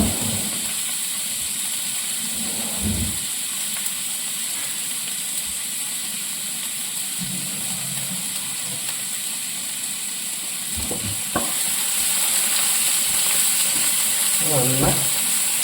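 Crushed shallots fry in a pan for Kerala chicken thoran, giving a steady soft sizzle with a few louder stirring clatters and scrapes scattered throughout.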